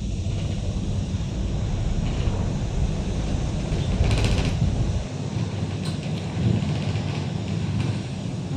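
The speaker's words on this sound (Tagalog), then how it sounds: "Ang sarap ng hangin." Wind blows outdoors at Ngong Ping in Hong Kong, a loud, steady rushing roar buffeting the microphone with low rumbling gusts and no voices.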